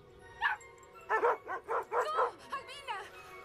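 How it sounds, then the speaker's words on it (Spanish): A small dog gives a quick run of about seven high, yappy barks close by, some thin and whiny, with short gaps between them. "¿Qué hace ese perrito ahí?"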